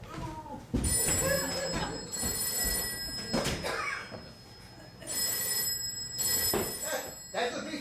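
A telephone bell rings in a stage murder-mystery comedy, sounding in repeated bursts through the scene while people talk over and between the rings.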